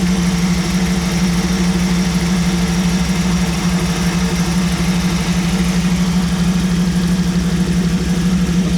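A BluePrint Engines 350 crate engine in a 1937 Buick street rod idles at about 850 rpm, a loud, close, steady rumble with an even low throb and no voices.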